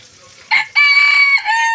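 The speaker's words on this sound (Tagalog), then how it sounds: "Nagpakain siya ng aming alagang mga manok." Pet chickens at feeding time, a rooster crowing loudly and close in two bursts, with softer clucking and fowl calls around them.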